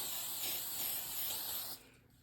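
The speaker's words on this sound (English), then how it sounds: "grab your oil or butter and just give it a spray" A close, steady hiss of a spray can misting oil onto a hot griddle for under two seconds, then cutting off to quiet.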